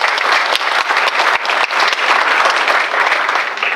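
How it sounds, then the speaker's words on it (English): An audience at a governor's funding announcement applauds, a loud, dense, steady round of clapping from many hands that holds for several seconds. "Let's give him a round of applause."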